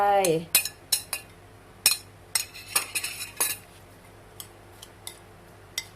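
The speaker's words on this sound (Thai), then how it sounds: "เราจะค่อยๆคนค่ะเพื่อไม่ให้ผักช้ำค่ะ" A spoon clinks and scrapes against a bowl in a string of sharp, irregular taps while Thai canned tuna salad (yam) with vegetables is gently stirred, fading to sparse light ticks toward the end.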